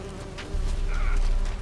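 Buzzing bees swarm close in The Witcher 3, a steady insect drone rising in loudness halfway through and holding under a low rumble of game ambience.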